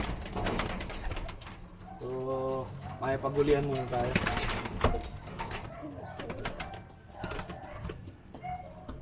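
Pigeons coo in a flyers loft, their low rounded calls repeating close by while someone talks over them in Tagalog throughout.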